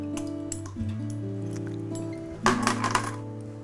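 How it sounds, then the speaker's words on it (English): Orange olive oil cake batter with milk and almond extract being stirred in a bowl, soft wet squishing with a few clinks against the bowl over a steady low hum, louder toward the end. "Get that stirred up some more until we can't really see any rings of olive oil."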